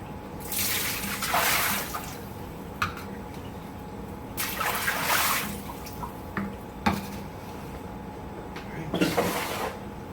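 Liquid is poured off from laboratory sample containers during rig cleaning in three separate short bursts, splashing and gurgling, with small clicks and knocks of containers in between.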